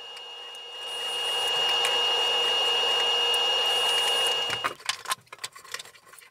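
Power driver sinking pocket screws into barn wood for a rustic copper and barn wood table, a steady high whirring buzz that holds about four seconds, then stops and gives way to scattered clicks and handling knocks.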